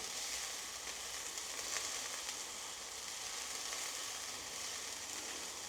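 Onions sizzle steadily in a hot frying pan, a continuous bright crackle that holds even and close from start to finish with no voices.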